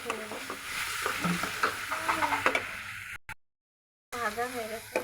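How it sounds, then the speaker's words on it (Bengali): Ginger garlic cumin paste fries and is stirred in a pan for a taro leaf curry, sizzling with scraping stirs under a woman's speech, then cutting out briefly before resuming. "মশলাটা ভালো কষিয়ে নেব।"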